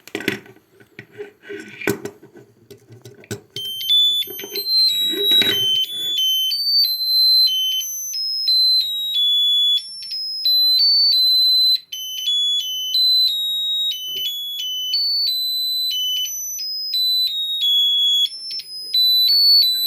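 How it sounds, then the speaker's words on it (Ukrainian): A loud electronic buzzer on a DIY musical LED Christmas tree kit beeps in a rapid, warbling alarm pattern, steady for many seconds after some brief clattering handling noises. "А тепер включу цю страшну пищалку."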